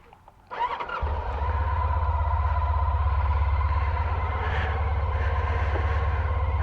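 A Honda ST1300 Pan European touring motorcycle starts with a brief cranking whir, then settles into a loud, steady, close idle that keeps running to the end.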